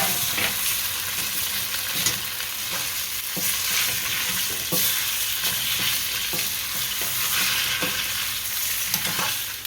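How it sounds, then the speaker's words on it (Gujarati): Fried idli being stirred in a hot pan with sambar masala, a steady loud sizzle broken by regular scraping strokes of the spoon against the pan. "હવે આ ઇડલી નાખવાનું, આ હલાઈ નાખશું"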